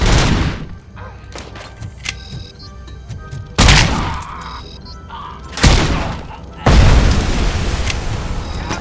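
Video game gunfire aimed at Robocop in Robocop Rogue City: loud bursts of shots and booming blasts come in waves, with crackling fire between them and short quieter gaps.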